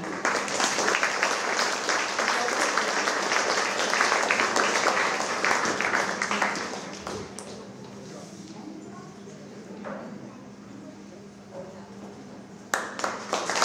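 Audience applause at a children's competition award ceremony, a dense burst of clapping for a first-prize winner that fades after about seven seconds into quieter room noise with scattered claps near the end.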